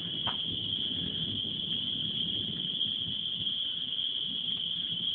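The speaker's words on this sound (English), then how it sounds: "Can you hear the crickets?" Crickets chirp in one steady, continuous trill through the whole stretch, outdoors by a lake on a mid-March evening with a thunderstorm nearby.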